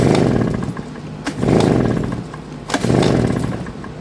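A Craftsman 46cc backpack blower engine cranks without catching: three rough pull-start bursts of low, sputtering churn, loud and close, each fading before the next.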